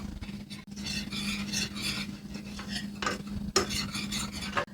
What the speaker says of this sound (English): Now I'm going to go ahead and put in our flour and our seasonings and whisk that right in.